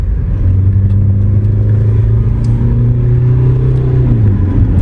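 A 2025 Tata Sierra diesel SUV climbs a mountain road at about 85 to 90 km/h, its engine droning loud and steady from inside the cabin, pitch rising gently before easing off, with no talk.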